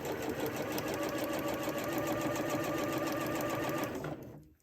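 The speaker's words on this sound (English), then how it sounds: "So I have the longest stitch on my machine, basting it in." A sewing machine set to its longest stitch bastes a seam for a Butterick B6872 garment, running at a steady, even whir for about four seconds before it stops abruptly.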